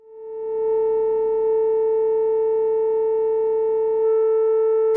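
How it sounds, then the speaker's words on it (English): A single sustained synthesizer tone bent slightly above pitch with the mod wheel, then eased back down; a steady, smooth note with no attack, heard alone and loud for about five seconds. "notice how I bend into it, I go above the pitch and then I go back down"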